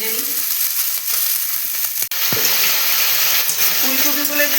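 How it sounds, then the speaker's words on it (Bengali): Steamed cauliflower florets frying in a pan, a loud continuous sizzle and crackle throughout, with a sharp clatter midway, like a utensil striking the pan, before the hiss resumes. "ফুলকপিগুলো একটু ভাজা ভাজা হয়ে গেল"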